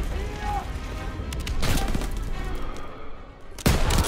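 Sniper rifle gunfire in the video game Call of Duty WW2 during the final campaign mission: a few sharp, loud shots with ringing tails spaced over a busy battle background, the last shot sudden and close.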